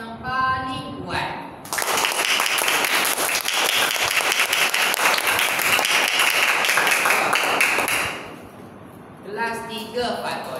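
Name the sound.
classroom children clapping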